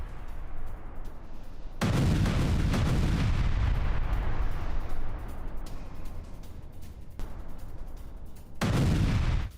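Missiles launching during an Iranian war drill: a loud, roaring blast begins about two seconds in and rumbles for several seconds, followed by quieter rumbling and then a second powerful launch roar near the end.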